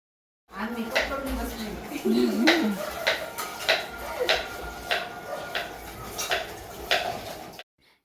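Pots and dishes being scrubbed and washed at home while a festival meal for Mahalakshmi is prepared: close, scattered metallic clinks and knocks of utensils, with someone talking briefly over them.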